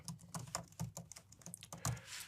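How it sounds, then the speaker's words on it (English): An email address being typed on a computer keyboard: a quick, uneven run of crisp key clicks, close and fairly loud, with no talking. "Now I'm going to type in my email address"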